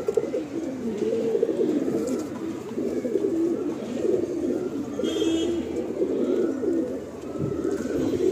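Several fancy pigeons with head crests coo continuously inside a home loft, a dense, overlapping chorus of low throaty burbling, close and steady throughout, with a few faint high chirps above.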